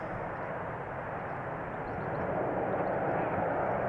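An airliner departs runway 36L at Amsterdam Schiphol with a broad, steady jet engine roar that grows slightly louder, heard from a distance with no voices.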